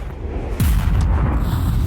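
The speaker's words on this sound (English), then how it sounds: "you hear a concussive explosion" A concussive explosion bursts in a neighboring street of a fantasy city: a single heavy boom hits sharply, then gives way to a loud, sustained rumbling roar.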